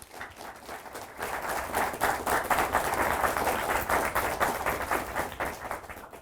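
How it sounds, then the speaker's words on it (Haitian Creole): Steady applause from a crowd, a dense wash of clapping that swells and holds for several seconds at moderate distance. "on l'applaudit très chaudement"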